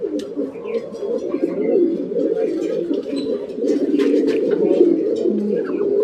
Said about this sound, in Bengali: খুবই সুন্দর কোয়ালিটির কবুতরগুলো